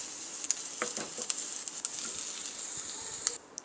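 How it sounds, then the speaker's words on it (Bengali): Ginger and panch phoron spices fry in oil in a pan, a soft continuous hiss with scattered crackling pops, close and fairly quiet, with no talking. "ভালোভাবে এটাকে আমি ভেজে নিচ্ছি।"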